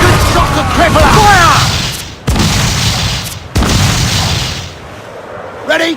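Ship cannons in Assassin's Creed IV Black Flag boom in heavy volleys, one long rumbling barrage and then two more sharp blasts, loud and close, with shouted commands from the crew mixed in.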